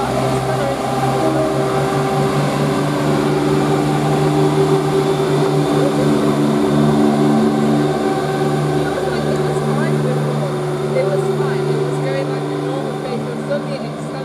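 Class 170 diesel multiple unit 170-107 leaving Tamworth station for Cardiff: a loud, steady engine drone with tonal hum dominates throughout, easing slightly at the end, while a voice speaks over it.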